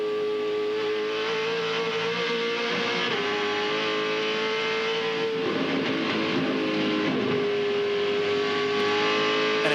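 A 2013 V8 Supercar engine at Bathurst roars loud and steady as the driver gets back on the throttle out of the cutting, its pitch holding, then shifting midway as the car slides slightly in oversteer, with no talk over it.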